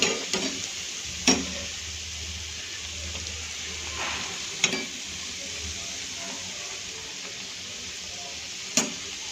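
Dakor gota, Gujarati gram-flour fritters, frying in a little oil: a soft, even sizzle with a few sharp clicks from a utensil against the pan, close but fairly quiet.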